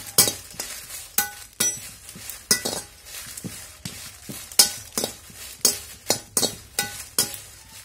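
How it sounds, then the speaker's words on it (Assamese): Dry chillies being fried and stirred in a pan: sharp metallic scrapes and clinks of a spoon against the pan at an uneven rhythm, over a faint sizzle, with no talk. "এয়া শুকান জলকীয়া আগতে অলপ ভাজি লওঁ।"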